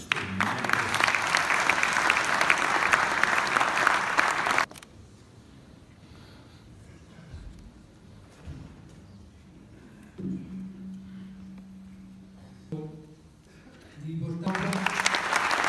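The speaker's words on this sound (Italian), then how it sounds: "Tanto noi l'accompagniamo con un applauso di sostegno." Dense, steady clapping from an audience fills a hall for several seconds, then cuts off to quiet room tone and faint murmurs before applause swells again at the end.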